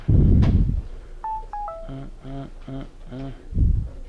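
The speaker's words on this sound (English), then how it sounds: "today, I want to turn off my phone." A mobile phone powering down in a classroom gives a few short rising tones, then a series of buzzy, evenly spaced chime pulses, framed by muffled handling noise at the start and end.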